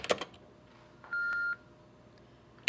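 A quick burst of touch-tone telephone dialing beeps by a relay operator, then a single longer steady tone, with faint clicks on a quiet line.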